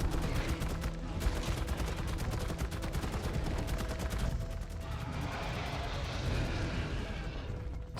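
Rapid continuous minigun fire from an Andrewsarchus saddle while hunting in ARK Survival Ascended, a dense sustained rattle of shots lasting the whole stretch, loud and close.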